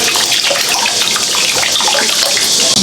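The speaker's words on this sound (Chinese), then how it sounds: "加点水，焯下水" Water pours loudly from a tap into a pot holding a large beef hoof for blanching, a steady close rushing gush lasting throughout.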